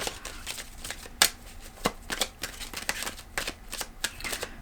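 Tarot cards are shuffled by hand in a series of crisp riffles and sharp slaps, close and fairly loud with short pauses between bursts.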